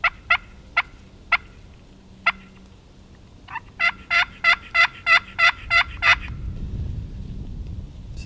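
Sharp, scattered clucks from a turkey box call, followed by a steady series of raspy yelps and a low rumble at the end.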